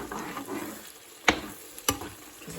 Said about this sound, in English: I just got my fish back there and poaching it.